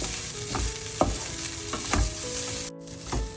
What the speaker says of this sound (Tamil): அதுக்காண்டி நான் கொஞ்சம் நெய் சேர்த்து வறுக்கிறேன்.